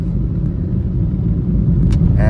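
A car overtaken on a green rainy-season road, heard as a steady low engine and road rumble from close by, with a brief faint higher whine near the end.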